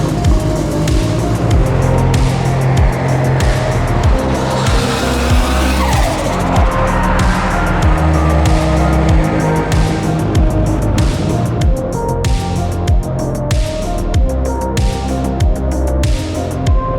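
A Nissan S13 car driving through the hills, engine note rising and falling steadily with frequent shifts and rhythmic pulses, loud and close throughout with no talking.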